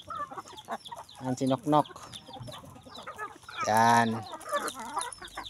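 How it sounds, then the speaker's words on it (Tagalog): Chickens cluck around a feeder in a steady busy chatter, with someone talking nearby over the birds. "Mga manok. Mga manok."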